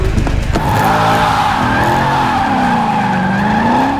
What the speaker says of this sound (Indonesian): Pada balapan itu, Jack yang mobilnya telah disetting berhasil mengalahkan Danny dengan selisih waktu yang sangat tipis.